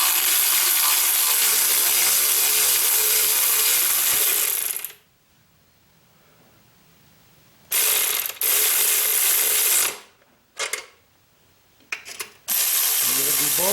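Ratchet clicks while tightening the drive chain adjuster on a 1986 Honda 200SX, coming in dense close bursts of rapid mechanical ticking separated by short silent pauses.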